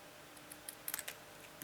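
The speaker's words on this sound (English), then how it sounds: "what I do is I do both ends, and what I do is I just cut at an angle" Scissors cutting paper at an angle for a card wallet make a short series of crisp, quiet snips clustered close together, faint and near, with no voices.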